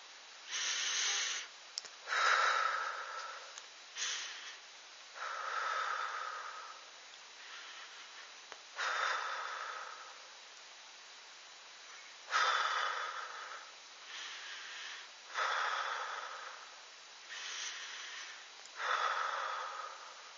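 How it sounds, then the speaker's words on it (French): Quick bursts of breath repeated in a breathing exercise, about eight to ten sharp airy exhalations spaced a second or two apart, close and moderately loud with no talking. "Puis nous allons faire une série de 6 respirations rapides."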